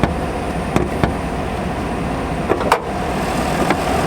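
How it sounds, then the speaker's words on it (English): A 2018 Chevrolet Silverado High Country pickup engine idling in remote start, a steady close mid-pitched hum with a few sharp clicks and knocks over it, no talk. "you cannot do it while the vehicle's running in remote start"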